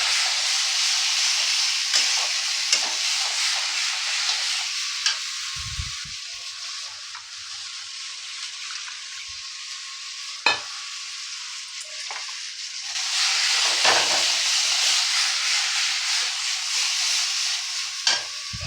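Coconut, poppy seed and chili paste frying in a pan for a Bengali pointed gourd curry, a loud continuous sizzle that dips and swells, with scattered clicks and scrapes of the spoon stirring.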